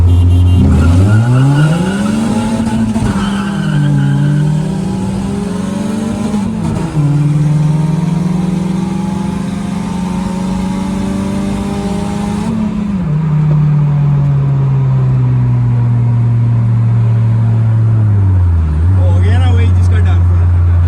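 A 1500cc Suzuki car revs hard during a street race, its engine note climbing and dropping through gear changes, loud and close throughout, with a heavy, droning tone that rises and falls.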